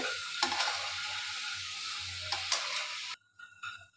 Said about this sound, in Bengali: কত সুন্দর মচমচে আওয়াজ হচ্ছে। আমি তেলে ছেড়ে দিলাম।